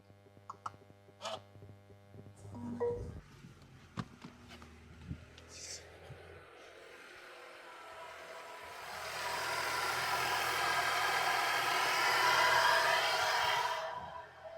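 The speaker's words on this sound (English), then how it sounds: "We know the engine turns on." A crash-damaged Mercedes A-Class AMG engine starts after a series of faint clicks and knocks. It settles into a steady, rising idle hum that fills the second half before cutting off at the end.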